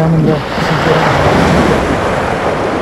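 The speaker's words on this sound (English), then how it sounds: "shooting these waves and all" Ocean waves break on a beach in Goa in a loud, continuous surf roar with wind buffeting the microphone and a brief voice near the start.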